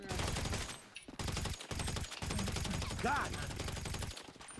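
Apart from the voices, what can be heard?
gunfire shooting at a bush in video game GTA 5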